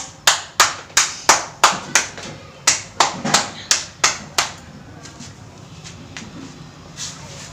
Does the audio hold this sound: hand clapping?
yes